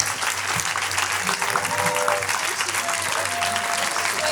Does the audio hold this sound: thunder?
no